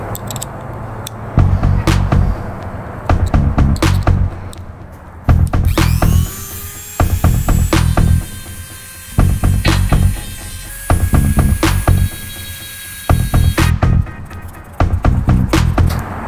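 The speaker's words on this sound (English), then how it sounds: "we can go ahead and start using our Dremel tool and our sander" A Dremel rotary tool and a sander work on a Sunfish sailboat hull during restoration, giving loud, close bursts of grinding and whining that start and stop at regular intervals, with short quiet gaps between.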